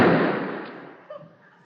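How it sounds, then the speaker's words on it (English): A single sharp, loud bang decays into a fading rumble, followed by a faint second crack a moment later. "Gunshots must be murder."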